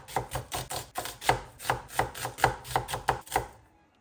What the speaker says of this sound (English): I am just going to thinly slice these.